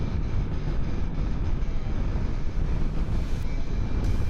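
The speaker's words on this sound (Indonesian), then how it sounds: "anginnya kenceng banget guys" Strong wind from riding a motorbike fast on the road beside a Ninja buffets the microphone, a constant loud low roar with no break from start to finish.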